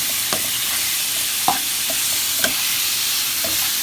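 Beef sizzles and crackles steadily in a hot pan as it browns for a crockpot stew, with a few sharp pops and scraping stirs over the constant frying hiss.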